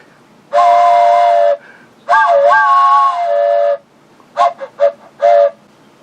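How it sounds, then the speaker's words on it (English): A train whistle sounds alone in loud tonal blasts: a long steady toot, a second longer wavering one, then three short quick toots and a final brief blast. "I'd like to toot that horn, and I'm gonna go with train whistle because I like train whistle"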